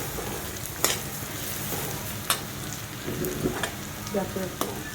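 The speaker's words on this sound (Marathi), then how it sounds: "सगळे धने आपण भाजून घेतोय" Coriander seeds roasting in a little oil in a village kitchen for Kolhapuri onion-garlic masala, a dense steady crackle and sizzle with a few sharp stirring clacks, close and loud.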